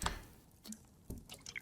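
A character drinking in the survival game Rising World: a few soft wet slurping and dripping sounds in short bursts, close and fairly quiet, with no talk.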